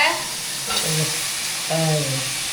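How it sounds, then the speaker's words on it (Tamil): Vegetables sauté in a pan in a steady, bright sizzle of hot oil. A voice speaks over it now and then. "இப்போ எல்லாம் வதங்கிட்டு இப்போ காய்கறியை சேர்த்துக்கலாம்"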